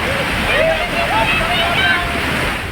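Rainwater rushes through a hillside drain with a steady, loud broadband roar and sloshing, continuous throughout, while a voice speaks faintly underneath.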